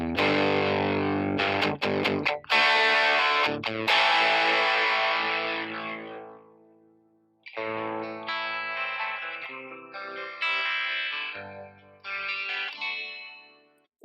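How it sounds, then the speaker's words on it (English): An electric guitar hammers out heavy, distorted power chords through an amp with chorus and echo effects, bursts of ringing chords separated by short pauses as the notes decay. "Then I'm going to go into a heavier power chord thing."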